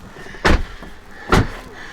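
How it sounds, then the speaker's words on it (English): Two Tesla car doors shutting one after the other, each a short solid thud about a second apart, close and fairly loud with a quiet background between. "I'm going to go ahead and close the doors."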